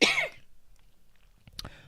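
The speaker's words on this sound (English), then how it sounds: "My cough is getting worse for some reason." A single sharp cough at the start, close and loud, followed by faint breathy throat noises and a small click near the end.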